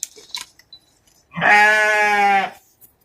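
A newborn goat gives one clear, loud bleat lasting about a second, preceded by a few soft rustles and clicks.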